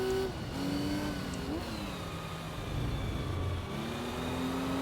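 Racing car engine in the Gran Turismo 3 video game, driven with a wheel controller: a loud, steady droning whine that drops and climbs in pitch a few times as gears change, running continuously with no talking.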